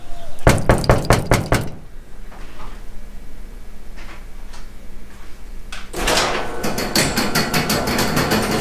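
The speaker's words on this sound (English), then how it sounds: "let's knock on the door and see if he's home" Sharp knuckle raps on a door in two quick bursts, the first a rapid series of loud knocks, then a pause with faint room noise before a second, longer run of knocking, close and dry.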